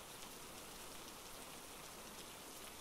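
Continuous rainfall makes a close, full, uniform patter and hiss across the short stretch, heard on its own with no talking.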